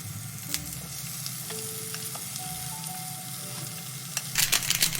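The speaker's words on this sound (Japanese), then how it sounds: "そして全体に広げて少しウインナーと大根に焼き目をつけます。" Sausage and daikon radish sizzle steadily as they brown in a pan over raised heat, a continuous close crackle with a few brief scrapes and a louder burst of spitting near the end.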